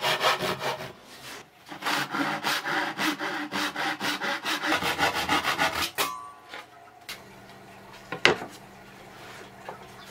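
Thick wood veneer being sawn at a 30-degree angle for a camping folding table, with rapid, steady back-and-forth rasping strokes for about six seconds, then scattered handling knocks and a sharp clack.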